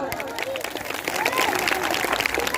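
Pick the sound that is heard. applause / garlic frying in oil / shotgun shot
applause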